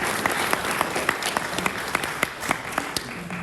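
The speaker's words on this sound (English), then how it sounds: "We can clap." Audience applause fills a speech competition hall, a sustained, dense patter of many hands with a few sharper individual claps standing out close by, steady throughout.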